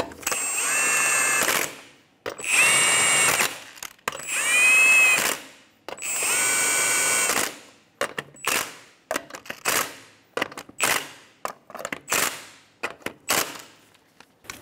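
Power tool, likely an impact gun, snugging down lug nuts in a star pattern on a 2007-2012 Nissan Altima wheel: four sustained loud whirring bursts, then a run of short rapid rattling hits, close up with no talk.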